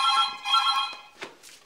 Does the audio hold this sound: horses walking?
no